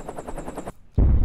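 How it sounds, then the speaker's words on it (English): Rapid bursts of gunfire or blasts as battle background noise, a dense rattling volley that stops abruptly, then a loud booming explosion rumbles in after a brief gap. "explosions."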